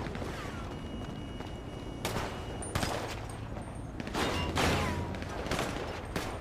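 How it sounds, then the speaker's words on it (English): Video game gunfire from a rooftop across the street, several sharp bursts of shots spaced a second or two apart over a constant noisy background. "they're shooting on the rooftop across the street as well"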